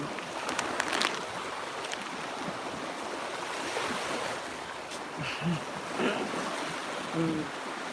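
Ocean surf rolls onto a beach in a steady, hissing wash with wind buffeting the microphone, and a few soft thuds and voices come through faintly in the background.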